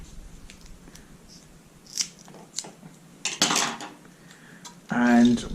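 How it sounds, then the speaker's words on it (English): Double-sided sticky tape handled while mounting a micro:bit: close, quiet peeling and snipping sounds with small clicks and taps, a louder rustling pull near the middle and a final burst of crinkly handling. "Get another bit of double-sided sticky tape."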